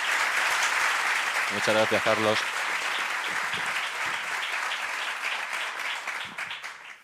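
Audience applause for a book presenter at a Spanish book presentation, steady dense clapping throughout that fades toward the end, with a brief spoken thank-you over it.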